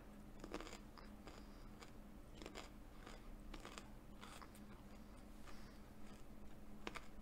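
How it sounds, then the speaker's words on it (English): Someone chews a carrot, with faint, intermittent crunches and bites recurring every second or so against a quiet indoor background, no speech. "Sorry if you can hear me chew."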